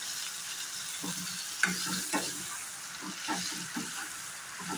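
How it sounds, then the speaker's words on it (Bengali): Chopped tomatoes fry with small fish in a pan, giving a soft, low sizzle broken by a few quiet stirring scrapes and taps at irregular intervals. "টমেটোটা দিয়ে আমি 1-2 মিনিটের মতো ভালোভাবে একটু নেড়ে নেব।"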